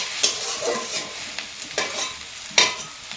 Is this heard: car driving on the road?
no